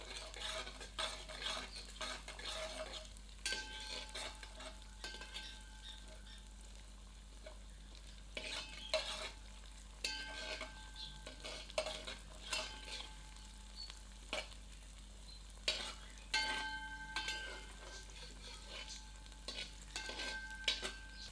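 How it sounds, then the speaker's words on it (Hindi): Peas stir-fry with cabbage and potato over medium heat, a soft continuous sizzle broken by frequent scraping clicks of a spatula or spoon against the pan, some ringing lightly, with no voices. "अब मटर सम्मिलित करते हैं और पुनः मध्यम आंच पर इसे 2 से 3 मिनट भूनते हैं।"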